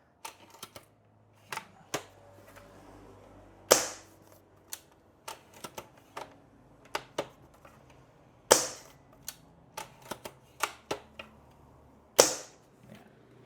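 An airsoft sniper rifle's bolt is lifted and drawn back slowly, giving a sparse series of faint, sharp mechanical clicks and ticks spaced irregularly, with a few louder snaps standing out in a quiet room.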